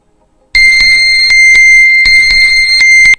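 An Amazfit T-Rex 2 smartwatch's find-my-phone alarm sounds from the phone: a loud, piercing electronic beep in a fast repeating pattern of high tones, starting abruptly and continuing steadily.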